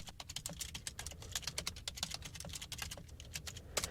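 Rapid, steady clatter of keys on a computer keyboard, continuous and close, with no voices.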